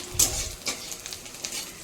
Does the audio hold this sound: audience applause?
no